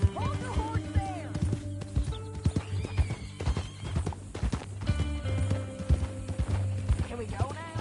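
Horse hooves clip-clop in Red Dead Redemption 2, a close, rhythmic run of hoofbeats with a neigh, under someone talking and a music score.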